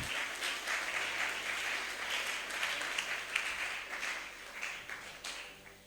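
A church congregation at an Easter service applauds continuously, many hands clapping in a dense, steady wash of sound at moderate volume for several seconds.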